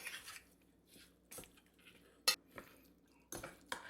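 Salt and white pepper being mixed into raw fish pieces in a bowl for Chinese tofu fish soup: quiet, scattered clinks and scrapes of a utensil against the dish in uneven bursts, with no talking.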